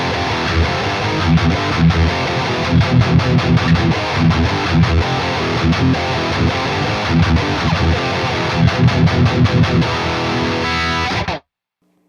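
Heavily distorted metal electric guitar played through a Bogren amp knob plugin, loud, dense riffing with rhythmic chugs and palm-muted stops, ending abruptly in silence.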